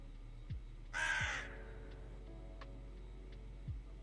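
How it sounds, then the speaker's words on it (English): A single crow caws once, a short harsh burst that stands out clearly over a steady low hum and quiet room background, with no talking. "There's a crow call."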